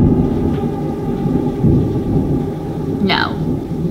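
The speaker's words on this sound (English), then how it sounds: "Does the thunderstorm outside have anything" Thunderstorm outside a room, a low continuous rumble of thunder and rain filling the background, steady and moderately loud, with a brief higher squeak near the end.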